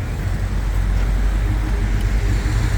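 A Ford Bronco Raptor's exhaust gives a loud, steady low rumble that holds constant from start to finish, with no speech over it.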